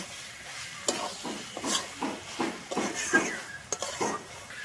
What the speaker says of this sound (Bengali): আমি কিন্তু এবারে আলু আর মটরশুঁটিটা মশলার সঙ্গে 1 মিনিটের মতো কষিয়ে নেব।